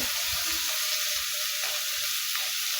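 Ground cumin and coriander go into a sizzling ginger, garlic and onion paste for a Bengali mutton curry. A loud, dense frying hiss runs throughout, with faint stirring scrapes and no voices.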